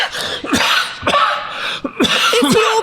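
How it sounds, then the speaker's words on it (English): An actor stages a coughing fit in an amateur stage play, giving several harsh, close coughs and throat-clearing bursts in an uneven rhythm. "If you're playing for sympathy by staging a coughing fit, it's not going to work."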